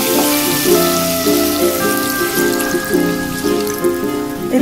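Whey left from curdling chhena pours into a curry pot of frying spices for kofta curry, a steady liquid splash and sizzle with tonal kitchen hum, continuous and close.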